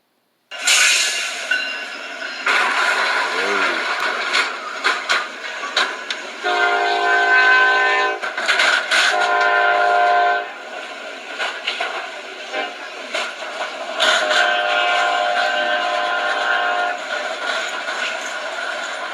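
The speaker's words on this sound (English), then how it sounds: "Why would he try to turn even though you hear the train horn?" A train sounds its horn while approaching a road crossing where heavy trucks and equipment are struck. Loud, sustained horn blasts ring out over the rumble of the passing rail cars.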